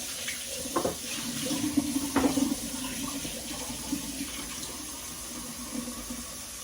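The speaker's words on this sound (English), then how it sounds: "let me get some clean water" Tap water runs steadily into a sink for several seconds while sushi is being prepared, a close, continuous hiss and gurgle with a few louder splashes near the start.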